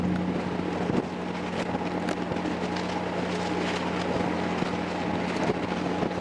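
A ferry crossing from Helsingborg, Sweden toward Denmark gives off a steady low engine drone and hum, with wind buffeting the microphone on deck throughout.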